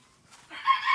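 A backyard flock of young hens clucks softly, a brief, faint burst of bird noise that swells toward the end.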